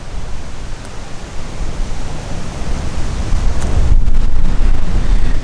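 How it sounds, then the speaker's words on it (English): Wind gusts across a campsite with a loud, continuous, rumbling roar and buffeting on the microphone, building in strength toward the end. "The wind's picked up a bit, as you can see by the fire blowing away."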